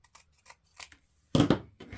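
Scissors snip ribbon ends at an angle for a deco mesh wreath, a few light, crisp cuts close by followed by a sharper pair of snips, with no talking.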